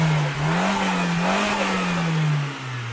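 Turbocharged Toyota Starlet engine revving up and holding high revs, a loud tonal drone that rises and wavers before easing off at the end, with no voices.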